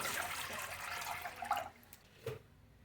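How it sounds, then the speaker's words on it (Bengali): Water poured into a cooking pot, a close splashing gush that fades out after about a second and a half, followed by a brief final splash. "এইখানে দিয়ে দিলাম জল"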